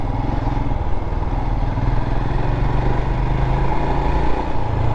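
A Royal Enfield Himalayan motorcycle is ridden along the road, its single-cylinder engine thrumming steadily and close with a low, even pulse and some wind rush, with no talking.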